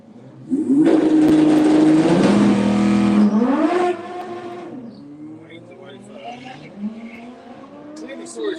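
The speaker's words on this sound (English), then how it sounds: "The Panic Scooby taking on this lovely Audi R8." A Subaru Impreza and an Audi R8 launch off the line at a Santa Pod drag race, a loud roaring burst of engines with rising revs over several seconds that fades as the cars pull away, with faint voices behind.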